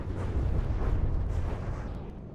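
A nuke intercepting its target and exploding in the naval combat game From the Depths, a loud sustained booming rumble that swells and slowly fades.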